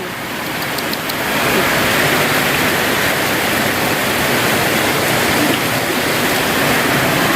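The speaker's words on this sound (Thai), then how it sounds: "โอ้ยฝนตกแห้งขนาดเลย" Heavy rain pours in Vientiane while floodwater rushes past a row of rented rooms, a loud, dense, continuous roaring wash that swells after the first second and then holds steady, with no voices.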